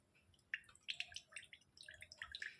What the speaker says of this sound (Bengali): এক্সট্রা জলকে আমি ছেঁকে এখানে ফেলে দিলাম